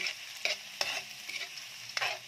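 Garlic frying in a pan for Bicol Express: a continuous close sizzle broken by four or five sharp stirring scrapes spaced about half a second apart, no voices.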